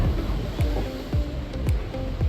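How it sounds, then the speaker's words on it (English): Waves smack against the hull of a cruise ship in blowing wind, a steady rush of water and wind noise broken by heavier periodic thumps about every half second. "the wind was blowing, and I was getting some pictures of the waves smacking up against the ship"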